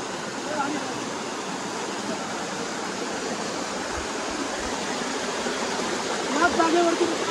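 A stream of cold water rushes steadily, a constant broad hiss and roar that fills the whole stretch. A faint voice may surface briefly near the end.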